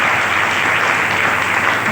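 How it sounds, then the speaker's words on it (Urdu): Loud, sustained audience applause fills the whole stretch at a worship gathering, a dense steady wash of clapping with no pauses and no voices standing out. "زوردار تالیاں ہم کے لیے رسیو کے لیے زوردار تالیاں"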